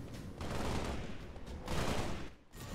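Dense, continuous gunfire in Halo: Spartan Assault, a rapid rattling barrage in two swelling waves at moderate distance, with no talking.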